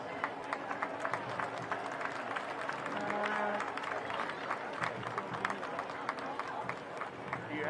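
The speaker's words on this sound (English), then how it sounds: "let's give Staff Sergeant Martinez a big round of applause" Stadium crowd applause for Staff Sergeant Martinez at a Charleston Battery versus Oakland Roots SC soccer match, a sustained, somewhat distant clapping roar under scattered voices and announcer talk.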